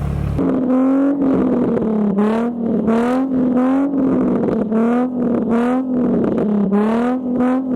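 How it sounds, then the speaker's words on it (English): A Nissan 350Z fitted with a Tomei exhaust revs hard and repeatedly, its engine note rising and falling in steady waves, loud and close with no talk over it. "We'll see how the Tomei sounds up there."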